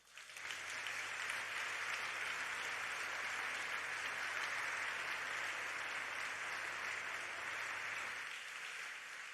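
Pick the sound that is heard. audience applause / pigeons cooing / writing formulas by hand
audience applause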